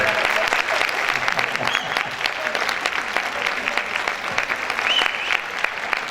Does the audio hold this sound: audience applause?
yes